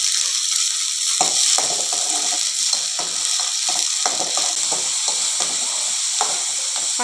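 Manathakkali berries, about 100 grams, fry in sesame oil with a steady close sizzle, while a spoon scrapes and stirs them in sharp, repeated clicks throughout.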